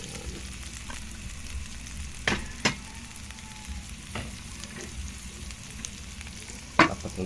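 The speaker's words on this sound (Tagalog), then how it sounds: "Lagay ko na yung sibuyas at saka luya mga guys at saka bawang." Onion, ginger and garlic sauté in a pan with a soft, steady sizzle. A few sharp utensil clacks against the pan break through, and nobody speaks.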